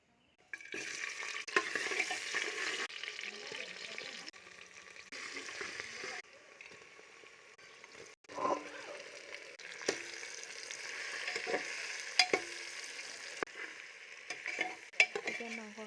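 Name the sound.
oil heating in pressure cooker for local chicken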